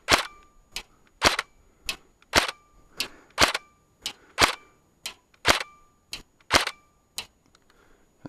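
A stock G&G L85 SA80 airsoft rifle fires a string of about fourteen sharp semi-automatic shots outdoors, crisp close cracks spaced roughly half a second apart with quiet gaps between.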